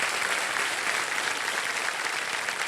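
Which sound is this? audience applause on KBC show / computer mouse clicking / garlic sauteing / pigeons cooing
audience applause on KBC show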